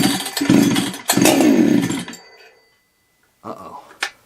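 Starting attempt on a ported Husqvarna 61/272 chainsaw: a loud, close engine burst of about two seconds dies away into silence, then two short, weaker sputters follow.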